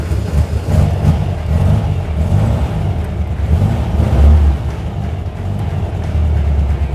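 Rebuilt Volkswagen air-cooled engine running steadily after start-up, a close, continuous low engine drone with mild swells of revving and no talk over it.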